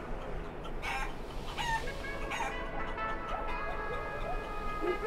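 Chicken in the video game Guacamelee clucking in repeated short squawks and bursts over a busy background of game sound, with no clear speech.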